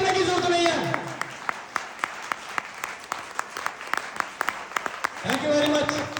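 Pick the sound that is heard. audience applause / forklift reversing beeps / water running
audience applause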